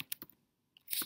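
Close computer keyboard keys clack in a few quick taps with a short pause, then a cluster of keystrokes at the end as a domain name is entered.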